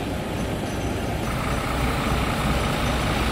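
Steady low engine rumble of a bus heard from inside while riding at night in Indonesia, a continuous drone filling the cabin with no talk.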